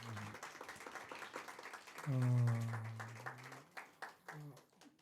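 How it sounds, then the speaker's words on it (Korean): A church congregation at a praise service claps for a woman being welcomed, a burst of scattered hand claps that follows a sustained voice and continues under ongoing speech. "현원영 자매님 우리 박수로 한번 하십시다."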